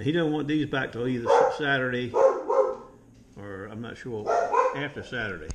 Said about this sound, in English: that noise you hear is my dogs barking.